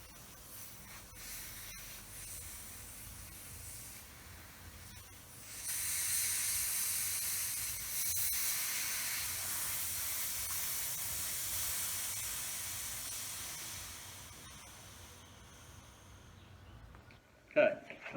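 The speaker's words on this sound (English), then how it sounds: "I'll let a little bit of the air out first" Air hisses steadily out of a tubeless bicycle tyre valve, a broadband rush that swells in after a few seconds, holds for about ten seconds, then tapers off and ends with a sharp click.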